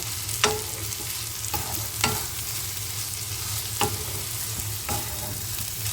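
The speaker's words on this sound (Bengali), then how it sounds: "সব দিয়ে এবার ভালোভাবে মিক্স করে নেব" Dried kachki fish being stirred with Kashmiri red chili powder in a pan, a steady low sizzle broken by several sharp scrapes and clacks of the spoon against the pan.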